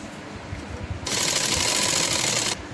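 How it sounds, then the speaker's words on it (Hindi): A sewing machine stitches the lining of a net frock, a steady mechanical whirr starting abruptly midway and running about a second and a half before stopping, preceded by quieter handling noise. "हम कमर तक सिलाई कर लेंगे"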